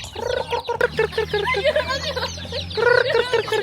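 Chickens cluck and chatter close by in a rural Bukidnon farmyard as children feed them, a dense run of overlapping clucks and squawks continuing throughout.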